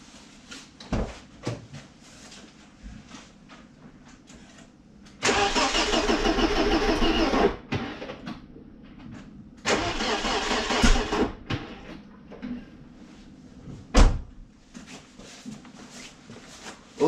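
A BMW E36 316i with the M40 engine cranks over in two long starter bursts separated by quiet pauses, with clicks and handling noises between attempts; the engine does not settle into running.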